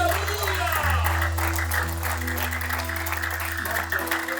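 Church congregation applauding during a worship service, a steady wash of clapping sustained throughout, mixed with a low hum of organ or keyboard in the background.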